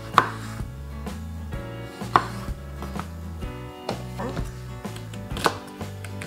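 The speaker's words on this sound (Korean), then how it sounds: "이렇게 8개로 썰어주셔요." A knife cuts a firm tomato into eight wedges, making several distinct thuds on a cutting board at an uneven pace, close and clear, over a quiet background tone.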